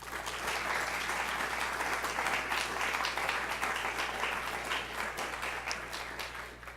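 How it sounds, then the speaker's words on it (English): Thunderous audience applause welcoming a guest speaker at an art talk, a dense, sustained wash of clapping from a sizeable crowd that fades slightly at the end, with no voices over it. "give her a thunderous applause and welcome"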